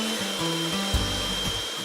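An electric whisk beating egg whites for meringue, a continuous motor whine with a shifting pitch and a brief bump near the middle as the beaters move, close and steady with no voices.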